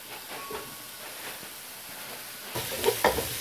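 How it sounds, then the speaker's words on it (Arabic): Chopped onion sautés in about a spoonful of oil in a pan as the base for meat shawarma, giving a steady soft sizzle and hiss with a few light stirring scrapes, growing louder toward the end. "غير كنسبقو هاد البصله ديالنا. ما نكتروش الزيت"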